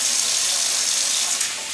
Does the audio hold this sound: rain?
no